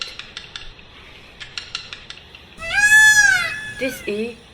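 A peacock gives one loud, wailing call with a rising then falling contour, followed by a couple of shorter honks, after a stretch of faint clinking.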